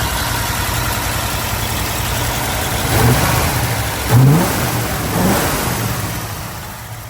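A 1960 Ford F100 shortbox pickup's 312 V8, cold and misfiring slightly, idles steadily and loudly up close, then revs in three short blips before settling.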